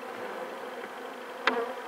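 Honey bees hum around an open apiary hive, a continuous close buzz with one bee darting loudly past the microphone near the end.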